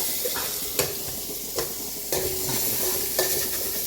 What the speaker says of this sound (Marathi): आतां तो एक कांदो घायलाय. आतां तो हो भाजयता बरो असो.